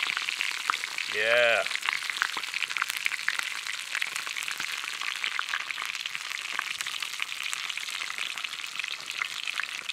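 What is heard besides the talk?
piece of fish frying in a pan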